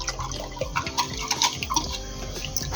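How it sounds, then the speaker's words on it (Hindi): A thin batter of flour dissolved in water is poured bit by bit into a cooking pot, giving close, wet splashing and dribbling with small irregular spurts, no talking. "अब हम इसको थोड़ा थोड़ा करके अपने वो कुन्ने में डाल रहे हैं।"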